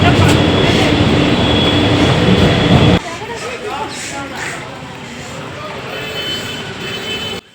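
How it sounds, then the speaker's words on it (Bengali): Riding a Dankuni local train, a loud rumbling rush of the moving carriage that drops to a quieter, hollow rolling clatter partway through, with chatter in the background. "ডানকুনি লোকালে ট্রেন ধরে নিয়েছি দক্ষিণেশ্বরে যাওয়ার জন্য"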